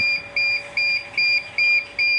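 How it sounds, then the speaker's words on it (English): A Blichmann Boilermaker brewing controller beeps in a steady repeating pattern, six evenly spaced shrill tones sounding close and clear over quiet background. "That controller is beeping at you."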